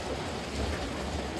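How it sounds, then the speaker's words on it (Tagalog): Steady rain patters down continuously on a farm, a dense wash of drops with a low rumble underneath and no voices. "narinig niyo ba yung patak ng ulan"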